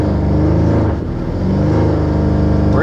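A tuned 750-horsepower 2018 Audi RS7 revs hard while staged at a dragstrip, its engine loud and close, climbing in pitch with a brief dip mid-way before rising again.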